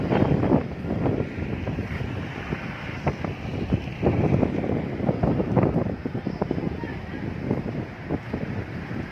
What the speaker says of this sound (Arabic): الجو سرعة الرياح شديدة جدا، سرعة الرياح